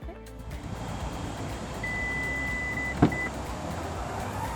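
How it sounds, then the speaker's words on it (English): A single short electronic beep from a Subaru hands-free power tailgate cuts through a steady low idling hum, followed by a faint mechanical whir as it opens. "hear the beep and move away, that will be the action that causes the tailgate to open"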